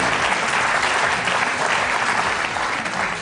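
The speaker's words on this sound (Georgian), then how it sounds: "შეიძლება ოდნავ აპლოდისმენტებით" A comedy show audience applauds, a dense, loud, steady wash of clapping hands from a crowd that holds its level throughout.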